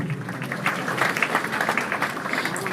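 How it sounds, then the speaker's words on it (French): Funeral audience clapping in tribute to a late mother named Anne, a dense, steady wash of many hands applauding together for a few seconds, with faint voices mixed in. "On acclame très fort, s'il vous plaît."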